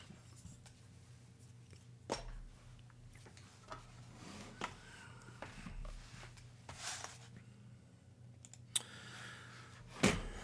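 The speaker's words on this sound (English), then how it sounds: "Cleaning my keyboard in an inopportune time." Computer keyboard being cleaned: scattered plastic clicks and taps with a few sharper knocks, close and fairly quiet over a low steady hum.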